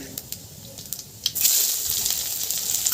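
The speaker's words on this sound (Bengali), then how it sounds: "এবারে দিয়ে দেব ফোড়নে পাঁচ ফোড়ন" Panch phoron, the Bengali five-spice mix, hits hot oil in a kadai: a few small clicks first, then a sudden loud hissing sizzle that swells and holds steady, close by, with no talking.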